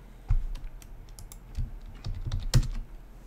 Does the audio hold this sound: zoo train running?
no